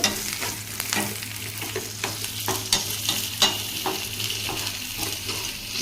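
Chopped onions sizzle in a hot pan for capsicum curry, with a steady frying hiss broken by sharp scrapes and clicks of a stirring spoon, close and without talk.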